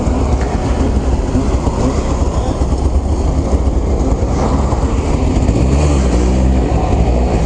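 An Arctic Cat Blast M 4000 snowmobile with a liquid-cooled single-cylinder 400 engine and 2-inch track, riding on trail, gives a loud, steady, close-up engine drone with rattling track clatter running unbroken throughout, with no voices.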